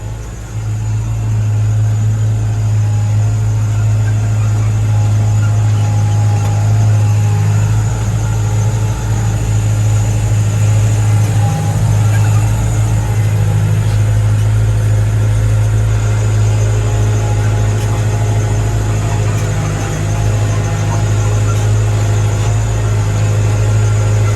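A tractor's heavy diesel engine runs steadily and loudly for a long stretch above 1500 rpm, its deep drone holding at high revs with a constant vibrating rumble.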